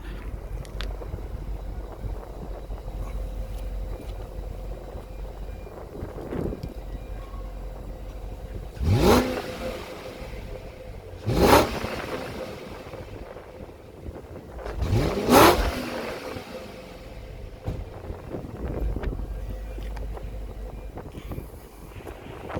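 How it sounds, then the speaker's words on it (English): A 2000s BMW 540i E39 V8 engine with a stock air filter idles quietly, then revs sharply three times in separate bursts, each rising and falling back to idle. "get some sounds of the exhaust before, see if it makes a difference"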